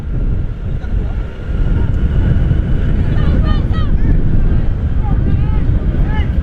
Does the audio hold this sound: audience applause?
no